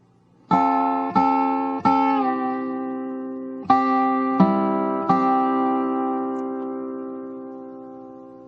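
Dobro phrase in bluegrass style, six bright plucked notes with ringing metallic sustain, the last note left to decay, played solo and close.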